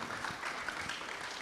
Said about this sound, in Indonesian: Silakan Bu Ninik, boleh kasih tepuk tangan.